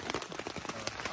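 Steady rain patters on a tent on Gunung Latimojong in Indonesia, while a camp meal is cooked out front; a dense, close patter of drops runs throughout with no talk.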